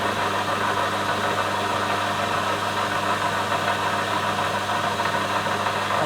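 A metal lathe running at full speed, about 413 revs, gives a steady, continuous mechanical hum and whir throughout, with no talking.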